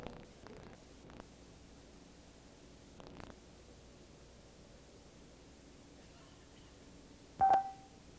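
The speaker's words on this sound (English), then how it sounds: "now we're using the cellular phone built into Alex's portable computer to place the order in real time." A cellular phone built into a 1990 portable computer dialing out to place an order: a short, bright tone burst near the end, after a long stretch of faint static hiss with a few soft rustles.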